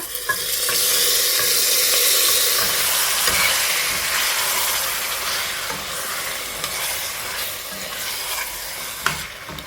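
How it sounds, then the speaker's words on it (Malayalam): Marinated mutton sizzles loudly in oil with browned masala, a dense steady frying hiss with occasional stirring scrapes, close and continuous with no voices. "മസാല മൂത്ത് വന്നിട്ടുണ്ട് അതിലേക്ക് നമ്മൾ മാരിനേറ്റ് ചെയ്ത് വെച്ചിട്ടുള്ള മട്ടൺ ഇട്ട് കൊടുക്കുക"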